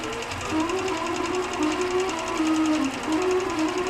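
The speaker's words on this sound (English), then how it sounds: "it'll just stitch really nicely right down the edge of the applique" A sewing machine stitches down the edge of a quilt appliqué with a fast, even, rhythmic hum that holds steady throughout, close and clear with no voices.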